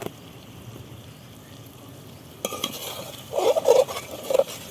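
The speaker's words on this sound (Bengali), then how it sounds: "সামান্য নাড়াচাড়া করবো" Boiled potatoes being stirred in a pot with spices: quiet at first, then soft scraping and a few louder clattering knocks of a utensil against the pot.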